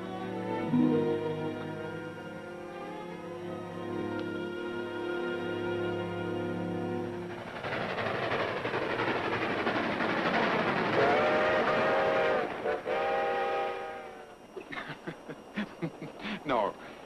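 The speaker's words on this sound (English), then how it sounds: "Train leaves at 9 tonight." A train rolls along with a long, sustained steam-style whistle at first, then a louder clattering run of wheels and carriages with further whistle bursts, fading into intermittent knocks near the end.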